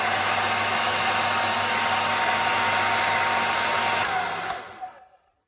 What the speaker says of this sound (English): I have dried all of them quickly with a blow dryer